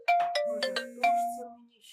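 A phone rings nearby with a short melodic ringtone, a few bright chiming tones in quick succession with one longer held note, clear and alone.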